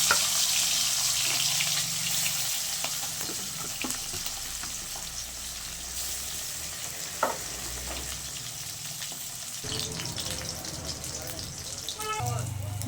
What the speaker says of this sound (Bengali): আমি এবার তেলে একটা একটা করে দিয়ে দেবো